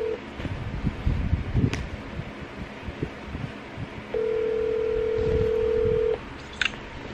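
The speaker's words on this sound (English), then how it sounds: "let me call dad." A phone is dialed to call someone: a quick series of keypad tones in the first seconds, then a steady ring-back tone holding for about two seconds near the end, with light background movement and faint household noise throughout.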